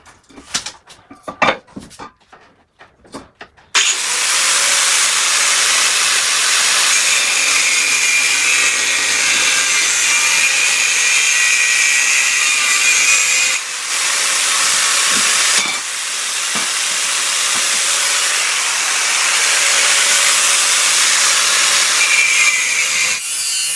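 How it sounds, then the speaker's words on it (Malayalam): An angle grinder cutting a steel L-channel cleat for an egg incubator tray motor base, a loud continuous abrasive hiss and whine held for about twenty seconds after a few brief knocks, close by. "ഈ ആംഗിൾ ഗ്രൈൻഡർ ഉപയോഗിച്ച് വർക്ക് ചെയ്യുന്ന ആളുകൾക്ക് അറിയാം ഏറ്റവും അപകടം പിടിച്ച ടൂളാണ്"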